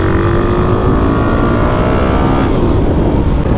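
A dual-sport motorcycle engine, a 2021 KLX300, WR250R or DRZ400, drones loudly and close while riding through twisty roads, holding a steady pitch that shifts slightly partway through, with heavy wind rumble underneath.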